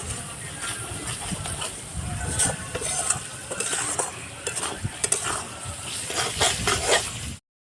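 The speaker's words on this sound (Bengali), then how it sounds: "ভালো করে মশলাটাকে কষিয়ে নিতে হবে" Spice paste with turmeric sizzles and fries in hot oil for egg chicken while a spoon stirs and scrapes the pan, steady close sizzling with scattered clinks of utensil against metal throughout.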